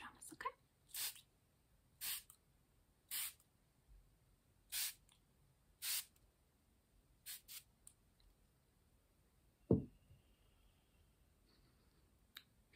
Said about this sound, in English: we're going to spray it on your pajamas